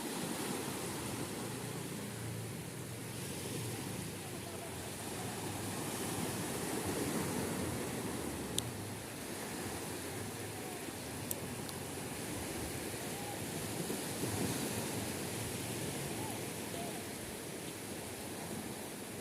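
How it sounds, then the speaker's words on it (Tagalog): Ocean waves washing onto a beach shore in the Philippines, a continuous broad roar of surf with gentle swells in loudness, steady and moderately distant, with no clear talking. "Maririnig mo ang alon sa dalampasigan"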